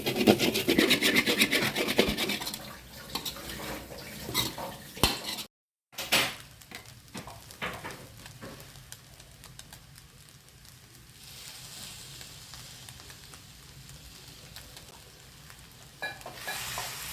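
Homemade kottu roti being tossed and mixed in a metal pan, with steady scraping, rasping strokes that are loud and dense at first, then a brief gap, followed by quieter continuous stirring and rubbing against the pan.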